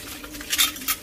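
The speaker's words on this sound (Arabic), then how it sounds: "غنشللهم دابا شوفوا معايا هنايا" Stainless steel spoons and cutlery being rinsed, giving a few close, light clinks and metallic chinks over a soft wash of water.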